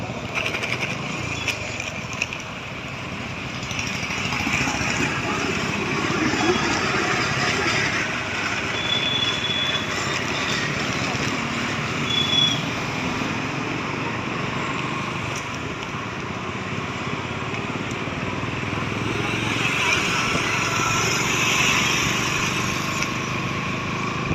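Motorcycle engine droning steadily under way on a ride back from market shopping, a continuous nearby hum with road and wind noise and no talking.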